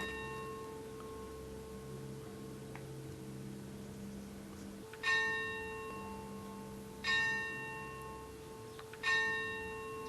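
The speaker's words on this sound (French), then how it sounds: "Il y en a beaucoup qui entendent la cloche qui sonne, mais c'est midi" A church bell tolls three slow, resonant strokes at noon, each ringing out and decaying over a steady low background hum, heard at a distance without speech.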